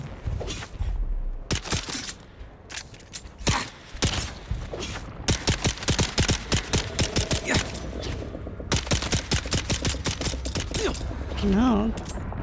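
Rapid bursts of video game gunfire in Dune, loud and close, firing in dense volleys with brief pauses, followed by a warbling tonal sound near the end.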